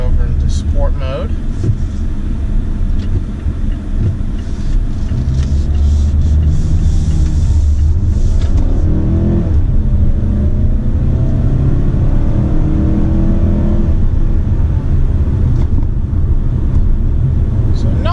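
2018 Mazda CX-5 engine held around 3,000 RPM in sport mode while driving, a steady loud engine and road hum with wind noise, with someone talking over it.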